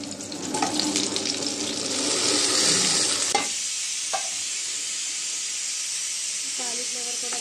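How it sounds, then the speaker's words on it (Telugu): Cauliflower goes into a frying pan with sorrel and lentils, setting off a loud hissing sizzle and stirring that settles into a quieter, steady fry with a few clinks of the utensil. "ఇప్పుడు కాలీఫ్లవర్ వేసేసుకుందాం."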